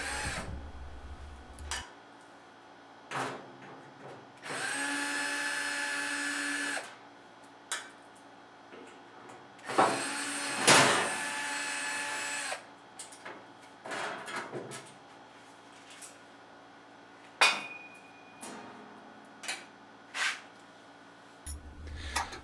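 Loosening the four 13 mm motor mounting bolts on a Grizzly 8-inch jointer: two sustained whirring tool bursts, close and fairly loud, separated by scattered metallic clanks, taps and knocks, with no talking.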